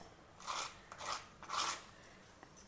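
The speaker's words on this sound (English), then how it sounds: "Can you hear the crunch?" A crispy Benne dosa crunches in several short, sharp crackling bursts, close and fairly quiet, with brief pauses between them.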